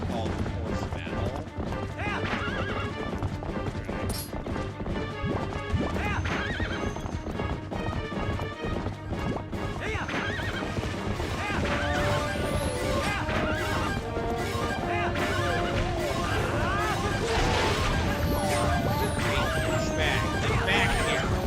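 Game audio from Zelda: Twilight Princess: horse hooves clip-clop at a steady gallop with a whinny, over busy orchestral battle music and crashes, with voices talking.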